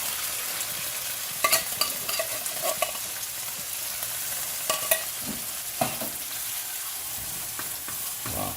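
Canned wholemeal chili without beans is stirred and fried in a pan for a cowboy-style mapo tofu, an even sizzle with occasional scrapes and clinks of the utensil, close and moderately loud, no speech.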